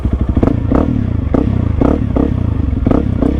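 A 300L dirt bike rides through mud off-road on worn stock tires, its engine loud and close with rhythmic surges of revving, while clattering and scraping from the ground run underneath.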